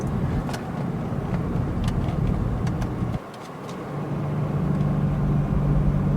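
A 2014 BMW 428i xDrive in Sport mode, its engine and exhaust droning loudly and steadily close by, dipping briefly midway before the rev climbs again.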